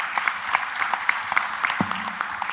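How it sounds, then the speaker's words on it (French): An audience at a round-table conference applauds Zakaria, a sketch artist, with moderate, somewhat sparse clapping, individual claps standing out, with a brief voice near the end. "Je vous propose de lui faire des applaudissements"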